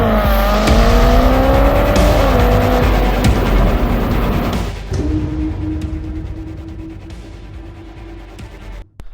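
Ferrari Roma with a 3.9 liter twin turbo engine, loud close exhaust revving with a rising, shifting tone, then settling into a steadier drone that fades slightly, with a sharp pop near the end.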